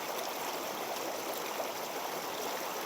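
Steady rush of a shallow mountain stream flowing over rocks, a constant broad hiss close by with no pauses and no voices.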